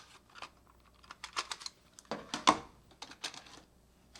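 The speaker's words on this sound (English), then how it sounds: "the most satisfying part, loading the tape" Reel of tape being loaded onto a multitrack tape machine in a recording studio: a quiet run of small clicks, taps and mechanical handling knocks, with one sharper clack midway, close and with no talk.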